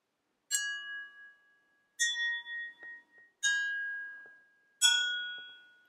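Gentle pencil taps on a glass ring out four times, each a clear high bell-like tone that lingers and decays, with a few soft rattles between strikes, heard close and without any voices.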